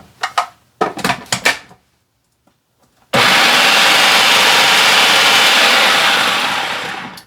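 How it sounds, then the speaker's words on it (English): A blender spins its blades through avocado and greens for a deep green juice. A few light clatters come first, then a loud, steady whirring roar runs for about four seconds before easing off, with no voices. "when the blades spin, it pushes everything up to the side"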